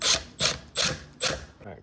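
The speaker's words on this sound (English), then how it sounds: "Line the holes up, the screws back in." Screws being driven by hand into a plastic backup camera mount on a Ram ProMaster van: four close, rasping bursts of turning in a steady rhythm, with no talking.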